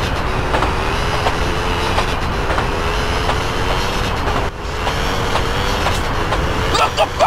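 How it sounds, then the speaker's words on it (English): A train in Grand Theft Auto: San Andreas rumbles past with a steady, loud roar and rhythmic clatter, continuing throughout with faint clicks near the end. "Look the fuck out, DJ, the train."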